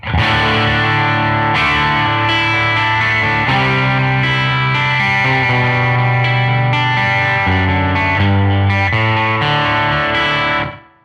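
A soft, spongy lead guitar with heavy effects plays a melodic line of sustained notes, smeared with chorus and echo, alone and fairly loud.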